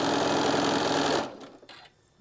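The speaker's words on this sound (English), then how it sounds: "And stitch this side down." Close, steady whir and rapid needle clatter of a sewing machine stitching a quilt block seam for about a second, then stopping, leaving quiet handling noises.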